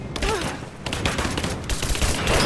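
Dense gunfire from a bout of combat in Rise of the Tomb Raider, rapid overlapping shots bursting continuously and loudly throughout, with a faint voice briefly underneath.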